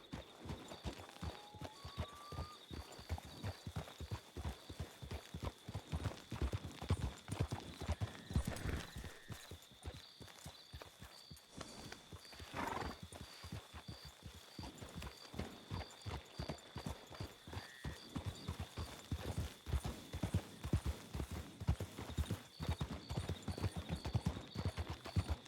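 Horse hooves in Red Dead Redemption 2 clop at a steady walking pace along a path toward Emerald Ranch, a continuous rhythmic plodding heard close, with a faint brief whinny early on and a constant thin tonal hum behind.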